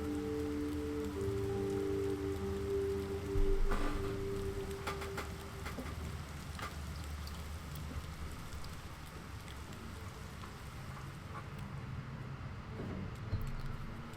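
Rain falls steadily in the video game Fall of Porcupine, a soft continuous patter with a few louder drips and knocks, while a bird coos faintly in the opening seconds.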